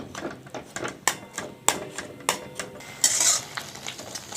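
A spoon scrapes and knocks repeatedly against a pan as orange barfi mixture cooks, rhythmic clattering strokes over a faint sizzle, close and alone.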